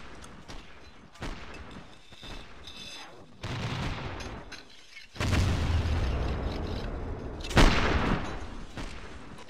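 Musket gunfire in a US Civil War video game mod: several sharp booming shots with rumbling, sustained battle noise between them, loud and close.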